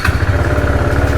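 A KTM motorcycle engine idling close by, its low exhaust pulsing in a quick even rhythm, loud and alone.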